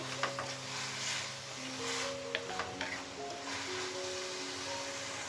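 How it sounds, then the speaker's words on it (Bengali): Soft sizzling of shrimp frying in a pan while being stirred, a quiet steady crackle with light scraping ticks from the stirring, and faint tonal hum underneath. "এখন চিংড়ি মাছটাকে আবার একটু নেড়ে নিচ্ছি।"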